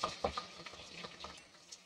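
A spoon stirs onion with whole cloves, cardamom, black peppercorns and bay leaf in hot oil, giving soft, close scraping and light sizzling with a few clinks at the start, fading quieter toward the end.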